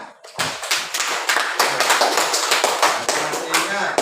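Students in a classroom clap their hands together in quick, slightly uneven bursts, close and fairly loud, with a few voices mixed in.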